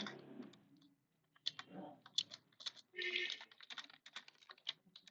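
Fingers typing on a computer keyboard while working through a coding problems page: faint, scattered clicks and short key runs close by, mixed with quiet speech.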